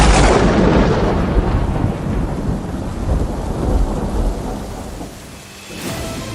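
A huge thunderclap and lightning strike booms and rumbles loudly through a steady wash of rain, fading slowly over several seconds, with a brief crackle near the end.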